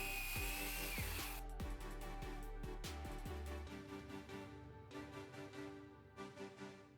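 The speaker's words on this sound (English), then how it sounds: "I only had 2 pocket holes left, so I drilled a third one just to be safe" A power drill bores a pocket hole into a piece of scrap wood, with a whining motor that rises and falls in short repeated bursts and then settles into a steadier spin.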